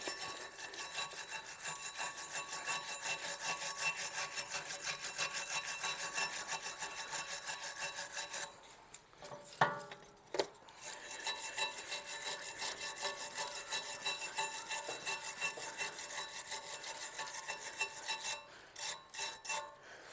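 A wire brush scrubs brake caliper surfaces on a Seat Leon's rear brakes, giving rapid, rhythmic rasping strokes close to the microphone that pause briefly midway and then resume.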